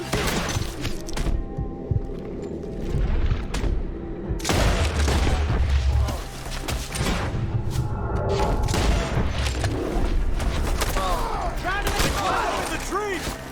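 A Red Dead Redemption 2 shootout on PS4: rapid, loud gunfire cracks and booming shots come in dense bursts throughout, with voices mixed into the close-range firefight.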